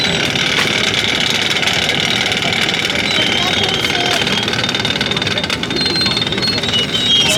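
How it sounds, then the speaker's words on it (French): Electric motors drive a pulley system that turns rotisserie spits loaded with Bresse chickens roasting in the Ain. It makes a loud, continuous mechanical whir and rattle, close and unbroken throughout. "Il y a tout un système de poulies pour faire tourner les poulets."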